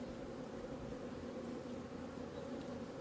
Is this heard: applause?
no